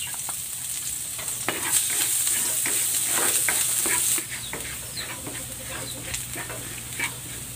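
Garlic sautés in a pan for a pork dish, giving a steady close sizzle with repeated scraping and clinking stirs throughout, no talk.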